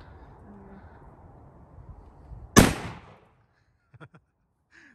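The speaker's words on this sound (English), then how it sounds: "Maxim Defense PDX, and Jasmine's gonna fire it for the first time" A single sharp shot from a Maxim Defense PDX rifle chambered in 7.62x39 cracks loud and close, with a short decaying tail over quiet outdoor background, followed by faint small clicks.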